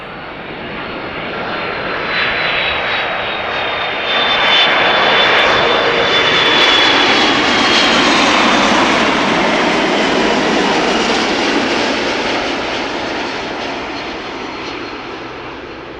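A jet airliner lands at Amsterdam Schiphol with thrust reversers engaged, a loud, sustained broadband roar with a descending whine that swells over several seconds and then slowly fades, with no voices.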